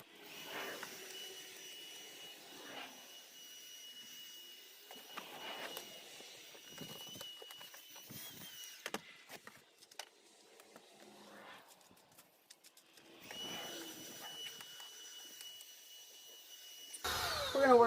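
A vacuum cleaner works inside a car trunk, its faint hiss rising and falling in separate bursts as the nozzle moves, with knocks and rustling between passes.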